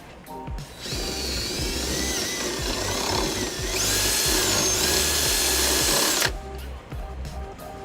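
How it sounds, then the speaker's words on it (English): Power drill boring a 1/2-inch hole through the frame of a 2006 Nissan Altima during trailer hitch installation, a loud continuous grinding whine for about five seconds that rises in pitch midway, close up. "We're going to drill a 1/2-inch hole here"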